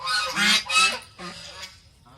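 Domestic geese give several loud, harsh honks in quick succession close by, then a weaker honk that trails off.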